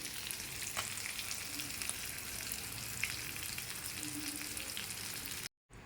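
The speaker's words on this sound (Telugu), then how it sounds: "నిదానంగా వేపుకోవాలండి సిమ్లో పెట్టుకోవాలి" Small fish fry slowly in oil on a low flame with a steady, dense sizzle and faint crackles, heard close and continuously until a brief dropout at the very end, with no voices.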